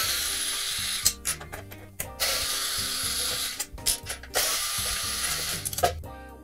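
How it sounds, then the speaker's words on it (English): A ratchet clicks in quick repeated bursts, close and loud, while it backs screws out of an Xbox 360 console being opened to repair a disc-unreadable fault. Brief pauses separate the bursts, and no one speaks. "So now remove these screws."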